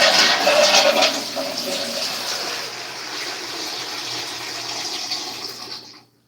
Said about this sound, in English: Here's some water in your bowl.